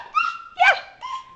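A dog whimpers up close in three short, high, whining cries, each rising and falling, loud and alone.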